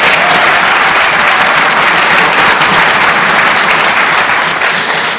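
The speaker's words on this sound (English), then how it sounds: "another round of applause" Loud, sustained applause fills a chamber at a junior parliament opening session, a dense wash of many hands clapping evenly throughout, close and strong with no speech over it.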